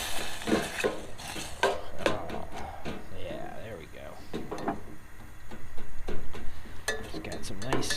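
Green pepper and onion cook in a pot over a gas flame, with irregular clinks and scrapes of a utensil stirring against the pot and occasional clatter, while a voice talks over it.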